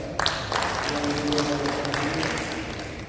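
Family members and guests clap at a plenary meeting in a hotel hall in Abepura, Papua: a steady, moderately loud patter of applause sustained throughout, with some voices mixed in underneath.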